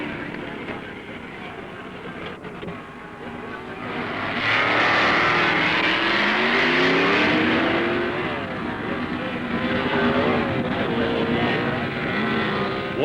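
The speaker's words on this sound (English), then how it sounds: "Dick Landy's modified production Dodge has drawn Carl Houchin Chevy from Kentucky." A modified production Dodge and a Chevy drag racing at the 1970 Indy Nationals, engines roaring as the cars launch and accelerate down the strip, loud and sustained with rising pitch sweeps on an old broadcast recording.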